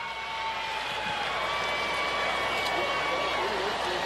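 Crowd noise at an Angels vs Dodgers baseball game in a stadium, a steady distant murmur of spectators under a commentator's voice, with a brief whistle-like tone drifting through.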